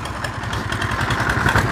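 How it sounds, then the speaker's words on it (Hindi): A concrete mixer machine at a roadside shoulder construction site churns sand and gravel, giving a steady, loud mechanical drone with a low throbbing rumble and a rattling clatter throughout. "ये मिक्सर मशीन इस तरफ लगी है, और लेबर यहाँ पर जी रेत बजरी वगैरह मिक्सर के अंदर डालती हुई"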